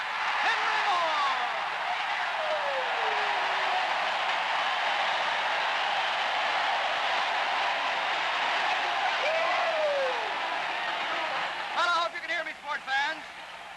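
The roar of a huge stadium crowd at a 1954 Baylor at Arkansas college football game after a touchdown, a broad and sustained wash of noise heard faintly, with someone talking over it throughout.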